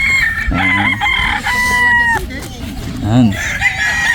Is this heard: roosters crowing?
yes